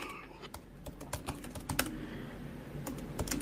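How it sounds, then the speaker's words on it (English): Rapid, uneven clatter of keys on a computer keyboard, fairly close and moderately loud, with bursts of taps over a low room hum and no talk. "Tell us what you're typing, by the way."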